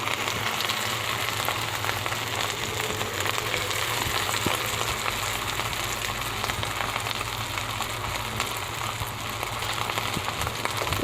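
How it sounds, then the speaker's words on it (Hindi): Cauliflower kebabs frying in hot oil give off a steady, dense sizzle and crackle, loud and continuous throughout with no voices. "डायरेक्ट ही फ्राई कर रही हूँ।"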